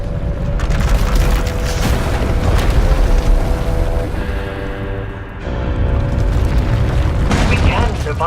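In Star Wars: The Old Republic, runaway power erupts as a loud, rumbling blast that rolls on for several seconds, dips briefly, then surges again, with rumble and crackle layered through it.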